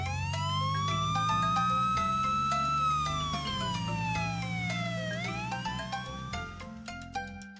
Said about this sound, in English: A police car.